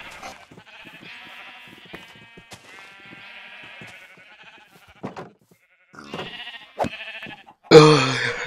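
Sheep in Minecraft bleat in a few short, separate calls, with quieter game sounds and faint clicks between them, all without voices. A loud final burst closes the clip.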